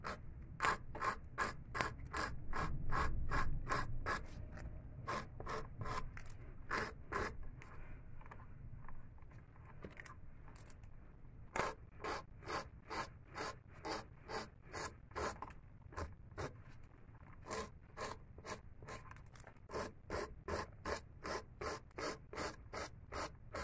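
A nail file rasps against acrylic nails in quick rhythmic strokes, dense bursts of scraping with a short pause midway, close and alone.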